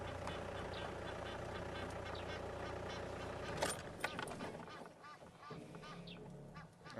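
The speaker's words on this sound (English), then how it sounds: "the geese are making a noise" Geese honk outdoors from a little way off, their calls rising over a steady rumble of a vehicle, then a few louder honks break out before the sound thins out.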